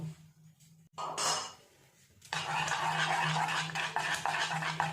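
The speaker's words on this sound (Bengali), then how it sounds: "খুব ভালো করে এবার ব্যাটারটাকে একটু ফেটিয়ে নেব।" Mung dal malpua batter being beaten in a bowl, a brief stir followed by a pause and then a sustained, close scraping and splashing whisk that continues steadily to the end, with no talking.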